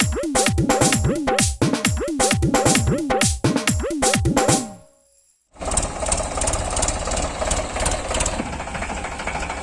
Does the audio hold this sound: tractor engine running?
yes